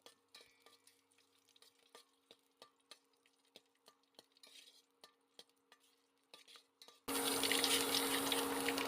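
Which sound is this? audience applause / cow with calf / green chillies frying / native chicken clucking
green chillies frying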